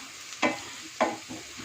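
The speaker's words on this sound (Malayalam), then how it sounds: "പച്ചമുളക് ഇട്ട് 1 മിനിറ്റ് നമുക്കൊന്ന് വഴറ്റിയെടുക്കാം" Green chillies being sautéed in a pan for vegetable pulao make a soft background sizzle, broken by two distinct stirring scrapes about half a second apart.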